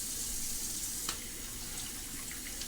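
Tap water runs steadily into a sink as raw shrimp are rinsed, a constant close hiss with a faint clink of handling partway through.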